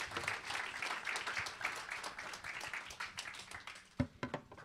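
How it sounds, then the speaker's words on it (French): Audience applause after a presentation at a conference on water and sanitation in Aix-Marseille-Provence, a fairly distant, steady patter of many hands that thins to a few scattered final claps. "Et on va vous remercier par quelques applaudissements également."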